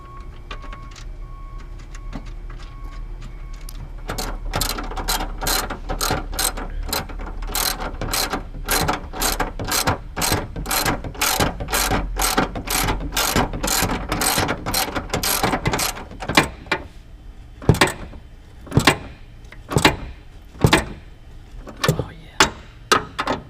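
A hand ratchet tightens a bolt on a work truck, with a long run of rapid, sharp clicks close up that later slows into spaced single clicks.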